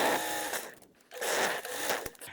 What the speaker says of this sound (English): we're going to sew this with a 1/4 inch seam allowance and then we're going to open it up and top stitch